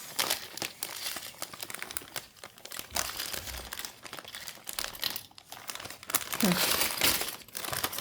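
Continuous crinkling of a plastic Lego parts bag being handled up close, with dense rustles and crackles lasting throughout, louder toward the end.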